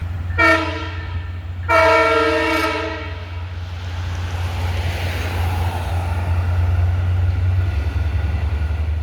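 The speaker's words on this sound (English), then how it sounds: "It's a long straight run here, so you're able to see the train easy." A train rolls along a long straight stretch of track in Bayshore, Long Island, giving two loud horn blasts near the start over a steady low rumble of wheels that continues through to the end.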